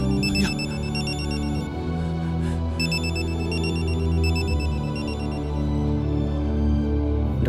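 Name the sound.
telephone ringing unanswered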